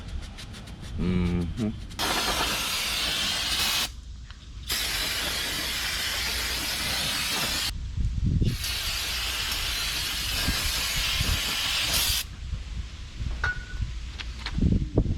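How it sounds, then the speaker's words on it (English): Loud, steady abrasive scrubbing of a Scotch-Brite pad on the hub mating surface for a hub extender on a 2019 Ford F-350 dually, in long continuous strokes broken by short pauses, close up. "I forgot to clean this surface, so we're gonna clean this mating surface too for the hub extender with the Scotch-Brite."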